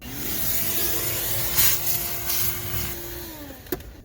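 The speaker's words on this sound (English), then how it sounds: "I feel like I should vacuum this out." A vacuum cleaner drones steadily while sucking debris out of a Subaru cabin air filter housing, a close, continuous whine with scraping and rubbing of the nozzle against plastic, then a clack as it stops.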